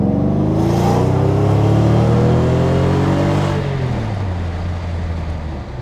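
A Mercedes CL600 V12 coupé revs through a custom Alix exhaust, a loud, close, deep engine roar that climbs in pitch, then settles into a steady rumble, with no talking.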